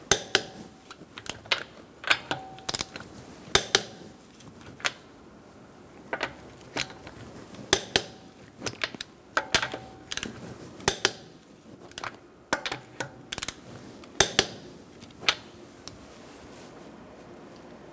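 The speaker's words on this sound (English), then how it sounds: "We're going to torque this to 100 foot-pounds in a star-like pattern using a 19mm socket." A torque wrench with a 19mm socket tightens nuts to 100 foot-pounds in a star pattern on a 2013-2022 Buick Encore, giving sharp metallic clicks and clinks in irregular bursts over a quiet background.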